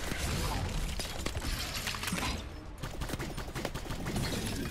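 Rapid bursts of gunfire crackle nonstop while shooting at the Caretaker, a boss creature in My Time at Sandrock, dense and loud with sharp cracks and a brief dip midway before the barrage resumes.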